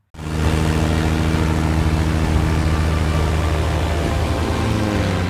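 Steady, loud drone of an airplane in flight in an action film, a continuous low engine roar with layered propeller-like hum holding evenly throughout, no voices.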